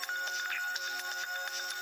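A mobile phone ringtone rings during an outdoor comedy scene, a thin electronic tune with pulsing beeps at moderate volume, nobody talking over it.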